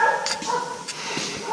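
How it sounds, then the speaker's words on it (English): Several dogs give a few short, fairly distant yips and barks in quick irregular bursts over faint background noise. "These dogs ain't gonna shut up."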